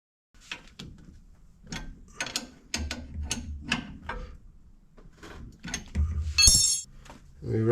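Ratchet clicking as suspension bolts on a Mazda RX2 are tightened, a series of short sharp metallic bursts in an uneven rhythm, close by, with a brief clink and some low handling noise.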